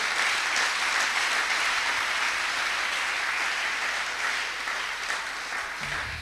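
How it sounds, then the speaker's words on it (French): A congregation at a French-language church service applauds in a dense, sustained wave of clapping and cheering. It stays loud throughout and eases off slightly near the end. "On peut acclamer le Seigneur?"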